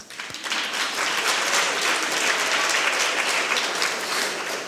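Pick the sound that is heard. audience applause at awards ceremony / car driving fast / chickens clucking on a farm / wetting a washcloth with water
audience applause at awards ceremony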